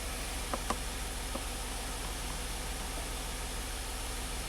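A Hyundai car engine idles steadily, apparently a little above its 650 RPM target idle after repairs, giving a constant low hum with a few faint clicks early on.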